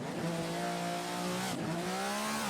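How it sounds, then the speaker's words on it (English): An old race car launches off the line at the Goodwood hillclimb, its engine revving hard and climbing in pitch while the rear tyres squeal briefly in wheel spin, loud and close, with no talk. "Raise those revs, oh, a little bit of wheel spin off the line."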